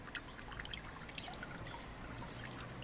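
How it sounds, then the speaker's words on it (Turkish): Water trickling and draining out through the bottom of a potted succulent after watering, a steady soft splashing dribble held close throughout, with no talking. "altından suyun çıkmasını bekliyorum"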